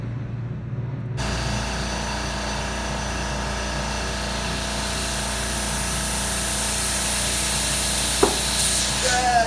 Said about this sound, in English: I hooked up the air compressor and started putting the air to her